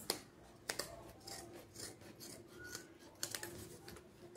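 Scissors trim the edge of a coin purse piece in close, quiet snips and rubbing cuts at an uneven pace, with no talking.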